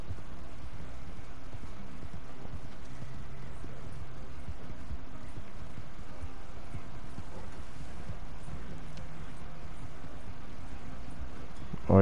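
Horse hooves clip-clop steadily through Red Dead Online free roam, a continuous rough trot under constant wind-like game ambience with no voices.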